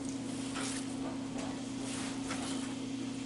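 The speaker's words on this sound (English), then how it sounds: "It's sizzling a little bit." Bacon grease sizzles gently in a cast iron skillet warming on the stove, a soft steady hiss with faint crackles over a low constant hum, not yet very hot.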